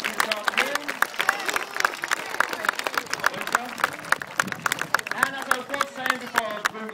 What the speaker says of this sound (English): Give her a round of applause for being so cheeky this afternoon.